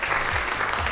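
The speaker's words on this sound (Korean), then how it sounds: "여러분 큰 박수로 환영해 주시기 바랍니다." An audience at a business lecture event clapping to welcome guests onto the stage: dense, steady applause from a full room, brief and alone.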